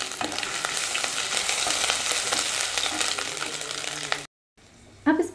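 Ginger sautéing in hot oil in a kadai gives a dense, steady sizzle with faint scraping, loud and close, cutting off briefly near the end before a soft clatter.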